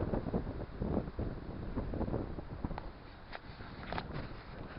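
Wind gusts loudly across the microphone at a windy corner of a Scottish wood beside an open field, a continuous rough buffeting that swells and eases with no voices.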